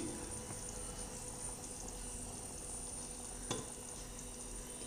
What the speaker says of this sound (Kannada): ನೋಡಿ, ಬೆಣ್ಣೆ ಎಲ್ಲ ಕರಗಿದೆ. ಇವಾಗ ತುಪ್ಪ ಆಗ್ತಾ ಇದೆ.